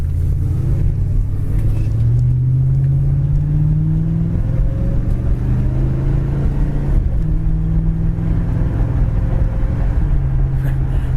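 A 1977 Pontiac LeMans under way, its engine droning steadily as the transmission kicks down and revs rise and fall through shifts, heard from inside the car with no talk.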